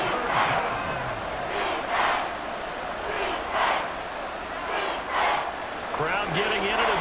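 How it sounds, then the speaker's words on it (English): In a Madden NFL 24 preseason simulation of Chiefs versus Bears on Xbox Series S, a stadium crowd roars steadily throughout, swelling in waves beneath continuous play-by-play commentary. "Crowd getting in it a bit already."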